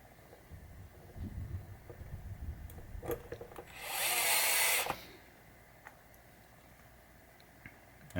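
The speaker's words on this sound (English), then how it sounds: "Let's put the locating screws in first." A power screwdriver whirs for about a second as a locating screw is driven into the wooden cabinet of a 1967 Williams Blast Off bagatelle pinball machine, framed by quieter rubbing and tool handling.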